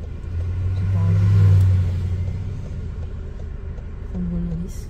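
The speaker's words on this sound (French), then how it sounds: "Le bus vient de redémarrer." A city bus restarts and pulls away from a stop, its engine giving a low rumble that swells and then eases off, heard from inside a nearby car during a driving lesson.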